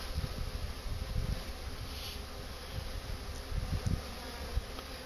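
A honeybee swarm moving into a hive box at an apiary makes a dense, steady buzzing hum that fills the whole clip, close and continuous with small swells in intensity.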